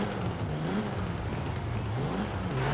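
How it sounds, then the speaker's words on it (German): A Japanese supercar in Forza Horizon 4 with a light flywheel revs freely, the engine note rising and falling smoothly in quick sweeps, steady and fairly close with no voices. "der Motorrad dreht natürlich jetzt viel, viel entspannter nach oben, gerade durch die leichte Schwungscheibe auch"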